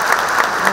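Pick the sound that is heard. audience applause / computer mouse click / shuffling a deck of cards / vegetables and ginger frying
audience applause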